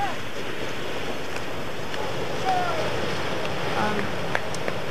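Ocean surf at Kolapa on Molokai, Hawaii, a steady broadband wash of waves mixed with wind noise on the microphone, with faint voices talking in the background.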